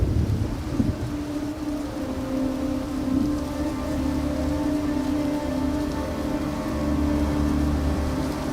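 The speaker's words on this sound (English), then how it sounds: "The rains are coming." Rain falls steadily over Indian grassland during the arrival of the monsoon, with wind whipping the grass, a low rumble of distant thunder, and a constant hiss that stays loud and even throughout.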